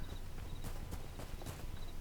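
Horse hooves clip-clop in the video game Hytale, a steady run of soft, evenly spaced hoofbeats over a constant background bed, with no talk.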